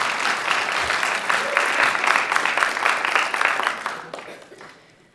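Audience applause at a media awards launch event, a dense sustained wash of clapping with cheers that carries steadily for several seconds before fading out near the end.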